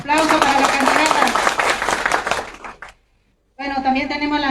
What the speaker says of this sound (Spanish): Aplauso para la candidata.